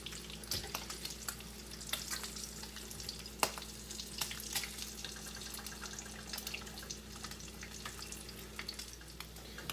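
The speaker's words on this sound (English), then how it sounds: "Anytime you're frying, it's inevitable." Steady sizzling of rainbow trout frying in a skillet, with scattered crackles and pops and a constant low hum underneath.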